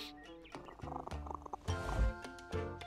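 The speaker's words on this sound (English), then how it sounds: "The cat." A cat sound from The Plucky Squire video game comes in as a few tonal meows or purring cries, close and fairly loud, spread across the stretch over light game music.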